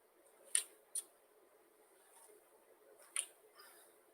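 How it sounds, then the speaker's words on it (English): Faint joint clicks during bodyweight lunges in a boot camp workout, three or four sharp isolated snaps at irregular intervals over a quiet room. "I don't know if that clicking is coming through on the speakers for you"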